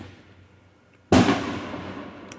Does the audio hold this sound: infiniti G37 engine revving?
no